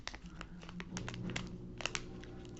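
Crinkling and tearing of a Bandai wafer cookie anime card package pulled open by hand without scissors, a close run of sharp crackles and rustles at low level.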